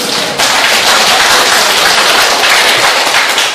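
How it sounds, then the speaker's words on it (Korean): A lecture audience applauding, dense steady clapping that starts abruptly and continues strongly throughout, fairly close and loud. "박수 한번 주세요"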